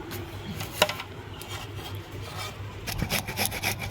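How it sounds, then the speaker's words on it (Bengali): Green mangoes are rubbed by hand, making close, uneven scraping and scrubbing strokes with a sharp clack early on and a busier burst of rubbing near the end. "দাও আমি আমগুলোকে ঘষে নিই।"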